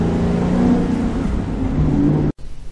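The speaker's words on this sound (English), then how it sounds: "And there really is nothing quite like that V8 burble." Deep, loud burbling V8 of an FPV GT FG Mark II rumbling steadily up close, cutting off abruptly near the end.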